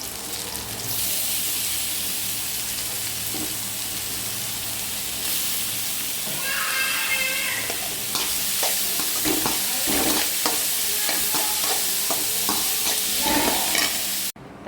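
Carrots stir-fried in a pan give a steady, loud sizzle, with spatula scrapes and stirring clatter growing busier in the second half. No one speaks.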